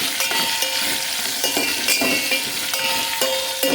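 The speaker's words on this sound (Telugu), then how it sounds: "ముక్కలు వేగుతున్నాయి కదా, కొంచెం పసుపు వేద్దాం" Vegetable pieces fry in hot oil in a pan as turmeric is added, a steady close sizzle broken by a few light clinks and scrapes of a spoon stirring, with no talking.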